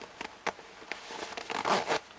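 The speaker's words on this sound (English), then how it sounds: "it is good noise, but who cares? It's just a zipper." A wide YKK zipper on a pair of tactical-style shorts is worked in a few quick, scratchy pulls, close and fairly quiet, with short gaps between strokes.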